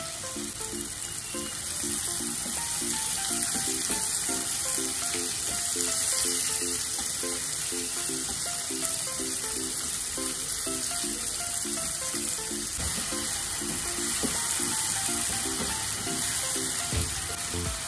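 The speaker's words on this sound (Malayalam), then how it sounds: "ചെമ്മീന് ഫ്രൈ ചെയ്യാൻ അധികം സമയമൊന്നും ആവശ്യമില്ല." Prawns fry in hot oil for a homemade prawn pickle, giving a dense, even sizzle that runs close and unbroken throughout, with faint tonal sounds in the background.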